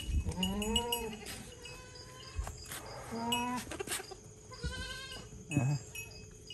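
Goats bleat repeatedly at a livestock market in Hasilpur, with several wavering calls spread through the clip and faint voices and farmyard noise underneath.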